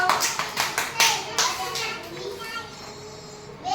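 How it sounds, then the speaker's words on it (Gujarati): Young children clap together in a classroom counting game, a run of quick uneven claps near the start that fades, with kids' voices and an adult talking over it. "સરસ તાળી પાડો"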